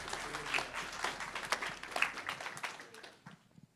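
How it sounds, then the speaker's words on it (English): A small audience at a jazz poetry reading gives faint, scattered applause, with uneven claps that thin out and trail off toward the end. "Please hold your applause to the end."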